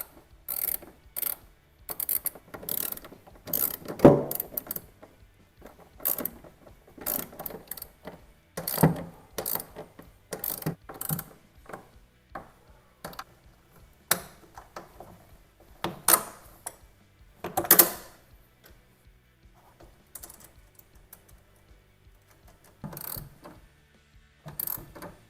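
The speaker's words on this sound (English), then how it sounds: "we're going to go ahead and bolt these down with the provided hardware" Tonneau cover hardware on a Worksport SC4 Pro folding vinyl cover is bolted down with a washer, lock nut and Allen key, producing close, irregular metallic clicks and ratcheting ticks in short bursts with pauses between them.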